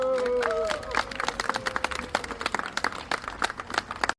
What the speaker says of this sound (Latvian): Aplausiet!